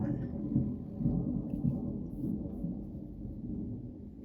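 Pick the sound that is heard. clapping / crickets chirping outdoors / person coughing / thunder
thunder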